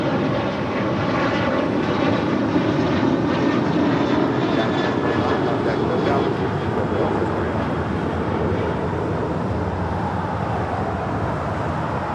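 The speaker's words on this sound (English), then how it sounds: "Skywest 4892, RNAV to Doctor, runway 25 right," A SkyWest jet taking off from runway 25 right at LAX gives a loud, sustained engine roar that holds steady and thick throughout, broad and rumbling, with no voices.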